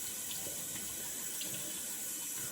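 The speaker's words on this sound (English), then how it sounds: "Heat up the blade with some hot water here." Hot water running steadily from a tap to warm a razor blade, a constant hissing splash with slight ripples, fairly close and alone.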